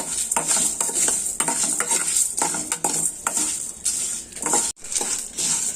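Cumin seeds roasting in a dry pan for pav bhaji masala, with a steady, close scraping and rattling of spoon on metal as the seeds are stirred continuously, under a soft crackle.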